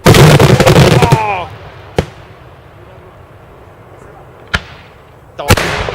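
Daytime festival fireworks shells at the 2013 San Trifone celebration in Adelfia burst close and loud, a dense crackling barrage with whistling rising tails fading into three sharp separate booms, and a voice briefly exclaims.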